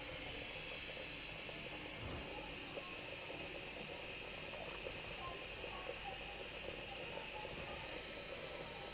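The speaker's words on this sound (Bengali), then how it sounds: "মাছগুলো একটু হালকা কড়া করে ভেজে নিল" Fish fry in a wok of hot oil, giving a loud, continuous hissing sizzle that runs unbroken throughout with faint clatter underneath.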